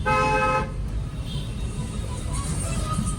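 A short car horn honk at a cyclist sounds once at the start, followed by engine hum and road noise from inside a moving car during a driving lesson.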